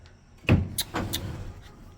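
A small door in a turkey coop is pushed open a little, giving a sharp knock and a short creak, followed by scraping and rustling close by.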